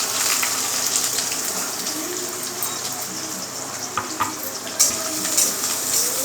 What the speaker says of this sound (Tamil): வெங்காயத்தை போட்டு நல்லா வறுக்கலாமா அது நல்லா வதங்கட்டும்